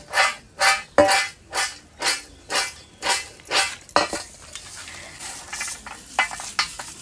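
Garlic cloves being rubbed between both hands to loosen their papery skins, for pickle-making: about eight rhythmic, crisp rustling scrubs, close and fairly loud, then softer scattered rubbing.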